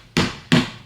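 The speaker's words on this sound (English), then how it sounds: "just bang the jug because I want to get rid of any big bubbles" A milk jug banged down on a counter in a kitchen during latte making, three quick, loud, hollow thuds in close succession.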